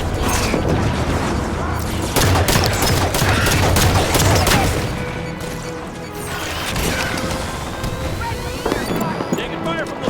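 Heavy automatic gunfire in a Halo 5: Guardians firefight, dense rapid bursts and impacts running throughout at close range, with in-game voices calling out during the battle.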